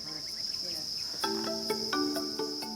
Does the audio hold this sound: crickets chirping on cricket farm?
yes